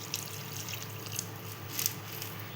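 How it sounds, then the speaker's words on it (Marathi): Water poured into a pot of cooking mung dal, a soft, faint trickle and splash with a few brief louder gushes, close by and otherwise quiet. "आता आपण त्यात टाकूया पाणी"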